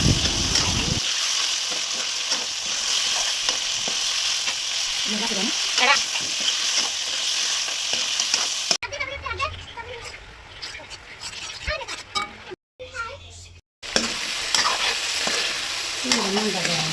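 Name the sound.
chicken stir-frying with fried onions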